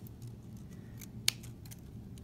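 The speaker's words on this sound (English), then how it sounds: "So I'm going to trim the excess off" A pair of scissors makes one crisp snip while trimming the excess from a paper snowflake, with faint rustling of paper around it and no speech.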